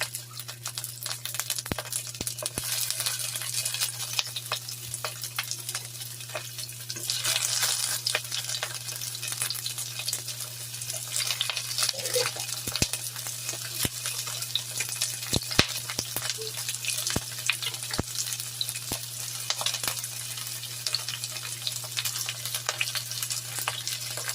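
Shrimp frying in a small amount of oil for garlic buttered shrimp, a steady close crackling sizzle with scattered sharp pops throughout, continuous and without speech.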